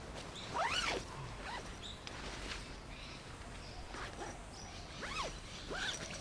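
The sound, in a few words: zipper of bivy bag being zipped up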